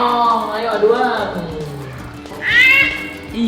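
A cat meows in drawn-out, wavering cries, with a louder high-pitched meow near the end; a person's voice is also heard.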